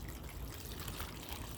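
Water pours from a 1 quart pitcher into a planting tray as a steady, soft, continuous splashing trickle, heard alone at low volume.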